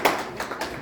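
Applause at a ghazal club gathering, a brief burst of dense, steady clapping from an audience, close and moderately loud with no speech.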